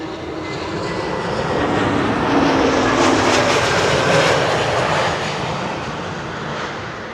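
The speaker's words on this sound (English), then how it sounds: "Air Transat is arriving from Toronto in Canada." An Air Transat airliner from Toronto lands at Schiphol, its loud jet roar building to a peak near the middle as it passes close by, then easing off gradually.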